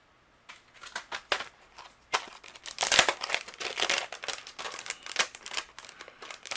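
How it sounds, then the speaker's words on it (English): A colored paper stamp image is run through a die cutting process with its coordinating die, producing close crinkling, rustling paper handling sounds in irregular bursts that grow busier toward the end. "take the coordinating die and we're going to cut out our image"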